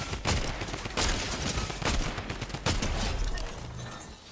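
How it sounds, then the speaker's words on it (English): Rapid automatic fire from a drum gun in a video game: loud, dense bursts of shots crackling one after another, nearly continuous with brief gaps, then tapering off at the end. "Is that a drum gun? It was a drum gun."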